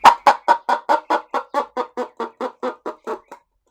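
A homemade cup-and-string toy imitates a clucking chicken, giving about fourteen loud, evenly spaced rasping clucks in a steady rhythm that slow slightly and fade, then stop.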